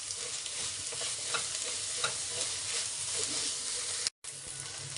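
A spatula scrapes and stirs green fried rice with egg, spices and lemon juice in a hot pan, with a steady sizzle and rhythmic scraping close by, no voices, briefly cut off near the end.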